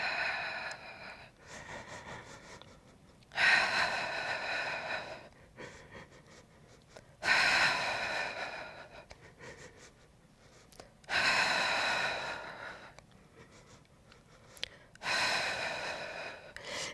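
Deep, slow breaths during a core exercise lying on a Pilates ring, each long inhale or exhale loud and close, repeating about every four seconds with quiet gaps between, and no speech.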